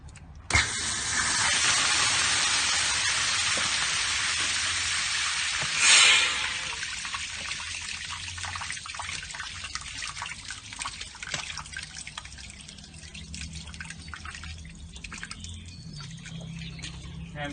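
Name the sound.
water shooting out of a drain pipe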